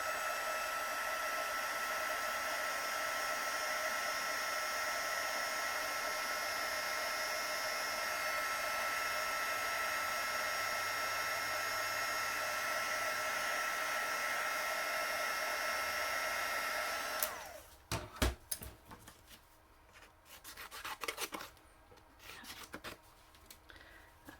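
Heat tool blowing a steady, loud whooshing roar for about seventeen seconds while melting white embossing powder on a papercraft sentiment, then cut off, followed by paper handling and clicks.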